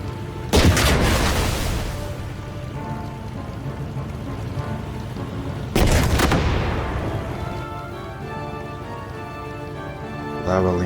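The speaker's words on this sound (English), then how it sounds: "Let's fire on this guy." Artillery fire from a unit in the WW2 turn-based tactical game Headquarters: World War II, two heavy booming shots several seconds apart, each followed by a long rumbling decay, over a steady rain-like ambient bed.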